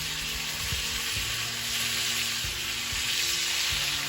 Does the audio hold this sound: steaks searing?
yes